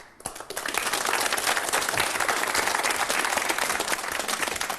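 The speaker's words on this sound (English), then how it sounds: "I'm sure you will understand that the applause is for Graham and not for us." A TV game show studio audience applauds, a dense sustained clapping that starts abruptly and carries on steadily without pause.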